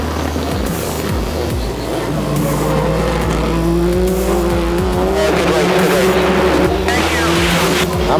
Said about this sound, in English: Sverre's number 11 Subaru also rips off the line.